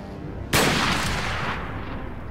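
A single loud gunshot in Resident Evil 4 cracks out abruptly, then its heavy echoing tail slowly fades over the next couple of seconds.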